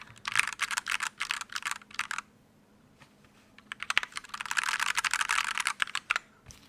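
Rapid clacky keystrokes on a mechanical keyboard with H1 linear switches in two bursts separated by a quiet pause, close and crisp with no talking.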